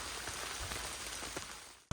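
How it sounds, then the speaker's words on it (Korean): Rain falls during a heavy rain warning on a mountain trail at Hansan, a dense, steady hiss of drops patters on leaves and ground, faint and continuous, ending abruptly. "비가 내리더니"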